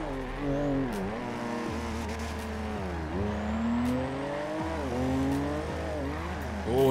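Car tires sliding and squealing in the video game GTA 5, a continuous engine drone with shifting revs and tire noise that keeps up over several seconds, with no voices.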